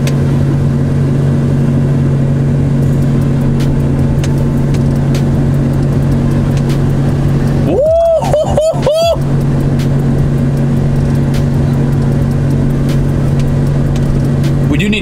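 A Ram pickup truck with its check engine light on drives along, a steady low engine and road drone running throughout, while a brief burst of voice-like tones breaks in near the middle.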